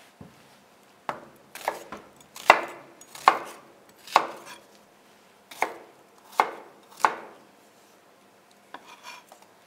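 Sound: knife dicing vegetables into cubes

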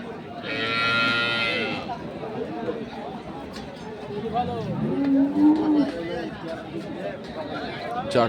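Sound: Sahiwal dairy cow mooing at cattle market

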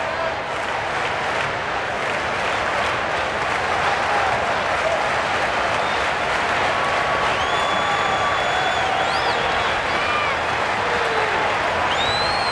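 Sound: baseball stadium crowd cheering after a single

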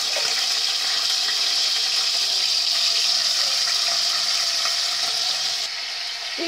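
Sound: frying elephant foot yam (jimikand) in a pan

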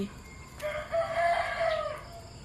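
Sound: rooster crowing

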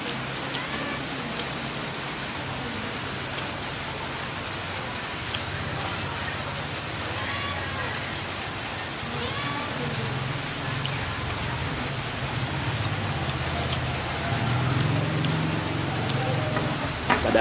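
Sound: rain falling outside a roadside eatery

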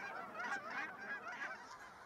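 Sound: Canada geese honking

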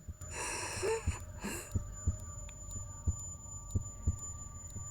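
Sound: heartbeat in the video game Into the Dead 2

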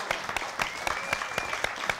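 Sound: audience applause for storytellers

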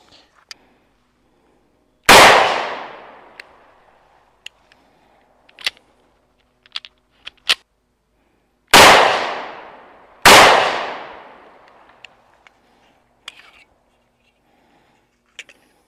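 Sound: gunshots from ATI Moxie FXH45 hybrid 1911 pistol

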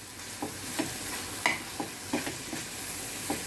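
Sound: stirring bitter gourd with chili powder and salt in pan

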